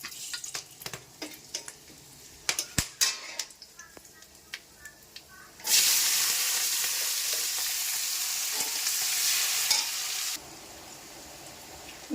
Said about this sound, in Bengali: রসুন বাটাটা এবারে দিয়ে দিচ্ছি